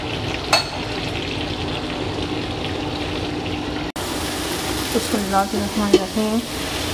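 Vegetables and tomato stir-fry in a pan for a fish dish, giving a steady, loud sizzle throughout with scraping stir sounds and a faint voice near the end.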